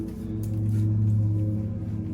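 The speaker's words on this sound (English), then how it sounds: "that's the lawnmower" A steady low lawnmower engine drone hums continuously in the background outside, with no talk over it.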